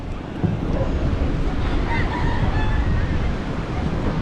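Open-sea waves wash in a steady, close rumble, with strong wind buffeting the microphone and a faint honk-like call partway through.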